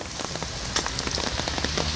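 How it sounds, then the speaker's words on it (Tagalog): Heavy rain pattering steadily on a surface while out biking, a dense, continuous hiss of drops close around. "Basa sa ulan."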